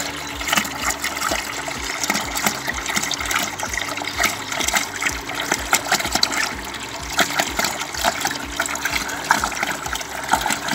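Water moving at the bottom of a homemade drilled well, a continuous murky trickling and gushing with irregular splashes and knocks, fairly close and steady, with no talking.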